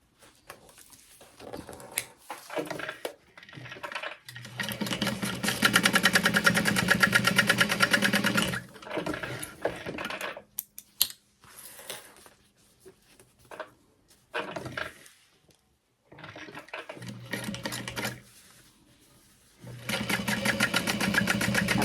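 A sewing machine top-stitches along the opened seams of a sling bag in repeated bursts of rapid whirring, stopping and starting several times, close and moderately loud.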